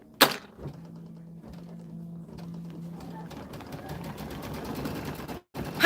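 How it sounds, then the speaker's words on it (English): A Brother embroidery machine stitches built-in quilting designs on a zippy bag with a steady mechanical hum. The hum gives way to a busier, rapidly pulsing clatter of needle strokes. "Gonna let it do a couple stitches"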